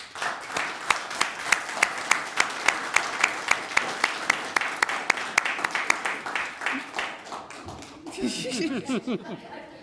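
A small audience at a city commission candidate forum applauds the candidates, with a few prominent sharp individual claps in a steady rhythm over scattered clapping, followed by light chuckles and murmured talk as it fades.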